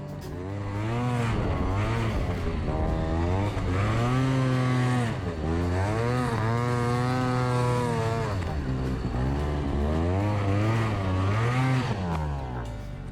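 A loud Arctic Cat BLAST M4000SE snowmobile with a cut-down aftermarket C-Tech 600 exhaust can revs repeatedly, rising and falling in pitch with a raspy, buzzing exhaust tone, close and continuous throughout.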